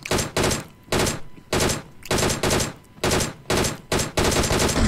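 Rapid bursts of automatic gunfire in a video game, roughly eight loud, closely spaced volleys separated by brief gaps, with no talk over them.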